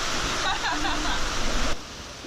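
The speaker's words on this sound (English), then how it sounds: "It is storming and freezing and everything is wet." Rainstorm on the Appalachian Trail in freezing weather, a dense, loud wash of rain noise close by that drops off abruptly near the end.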